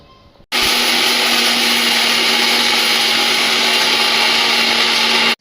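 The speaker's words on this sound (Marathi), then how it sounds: "इथं खोबरं दळून घेतलं" Grated coconut being ground in an electric mixer grinder: a loud, steady motor whine that starts abruptly after a short quiet moment and stops sharply at the end.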